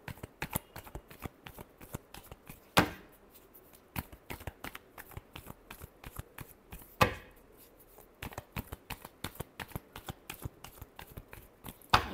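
Playing cards are shuffled close up in quick papery riffles and taps, with a few louder riffles standing out, and no one speaks.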